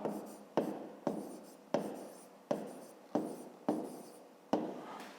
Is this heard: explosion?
no